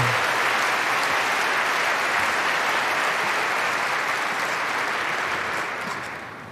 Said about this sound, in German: ich bitte euch um einen großen Applaus